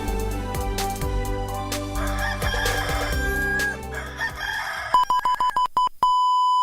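A rooster crows loudly over a busy mix of music and station jingle sounds, ending with a series of short electronic beeps and a sustained tone near the end.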